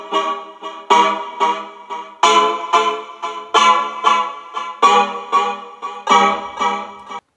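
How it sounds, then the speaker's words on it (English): A warm sampled chord progression plays alone, with steady rhythmic chords, each swelling and decaying, repeating in a looping pattern. "So the first sample I used was this chord progression"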